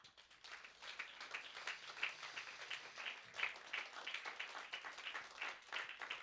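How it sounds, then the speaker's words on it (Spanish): Church congregation applauding during a sermon, continuous clapping heard faint and distant, with an uneven swelling rhythm throughout. "Dele un fuerte aplauso a él."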